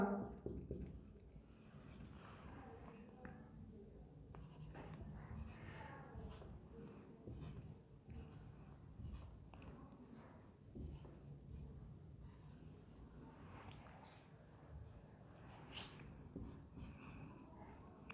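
A pen scratches steadily on paper or a board while a matrix example is written out, with soft, faint strokes and light tapping over quiet room noise and breathing.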